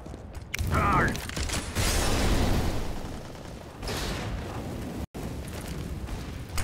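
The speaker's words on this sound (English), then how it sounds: "I throw in a flashbang" A flashbang grenade goes off in Counter-Strike: Global Offensive as a loud, sustained burst that fades over a couple of seconds, with game noise and voices around it.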